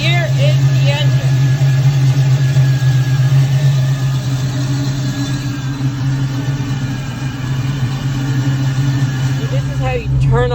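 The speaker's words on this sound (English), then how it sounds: "And here is the engine." A 1970 Camaro Ringbrothers one-off muscle car engine runs at a loud, steady idle with a deep throbbing rumble, while someone talks over it.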